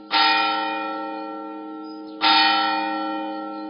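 Church bells of the Basílica de la Macarena ring out for noon, two loud resonant strikes about two seconds apart, each with a long, slowly fading ring, heard alone.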